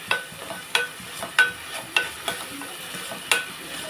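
Onions frying with turmeric and salt in a pan for a carrot curry, a low sizzle punctuated by a series of sharp, irregular spoon knocks and scrapes, close up with no speech.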